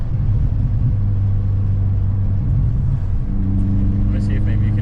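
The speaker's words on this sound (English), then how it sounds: "Let me see if maybe you can hear the blow off valve better" An Audi A4 with a Stage 3 turbo engine, heard from inside the car as a steady low engine drone while it drives, with a higher whistle and brief hiss near the end; no words.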